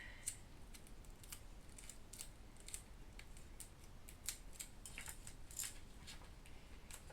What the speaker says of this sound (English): Gonna fold the tape over.